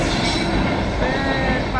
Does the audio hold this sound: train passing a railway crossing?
yes